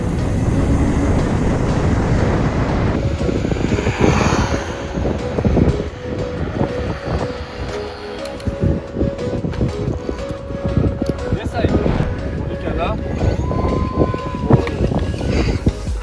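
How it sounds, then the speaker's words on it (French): A high-powered electric scooter accelerates on dual motors outdoors, a loud rushing wind-buffeted roar with rattling and a rising electric whine near the end, constant and close throughout. "Là je l'ai bien redébridé, je l'ai mis en Dual Motors, donc là je vais refaire une accel"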